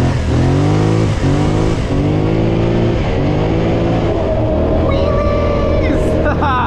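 A Scrambler 1000 ATV engine revs hard during a wheelie on Wisconsin trails, loud and near, its pitch climbing and then dropping as the throttle eases, with a voice talking over it.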